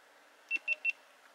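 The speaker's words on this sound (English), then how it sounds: "Listen for the beep." Three short, evenly spaced electronic beeps from a GoPro Hero 7 Black camera powering on, high-pitched and clear against a quiet background.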